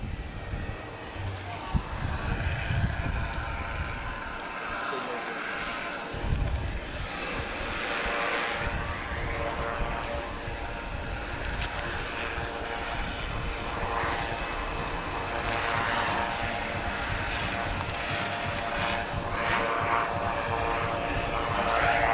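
Autogyro flying at the Portugal Air Summit airshow, a steady propeller-engine drone that holds throughout with broadband rumble and crowd noise around it, moderately loud and fairly constant.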